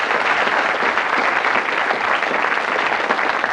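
Studio audience on a 1991 Blockbusters game show applauds a contestant, a loud, even, continuous roar of clapping with no gaps.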